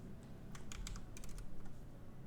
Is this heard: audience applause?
no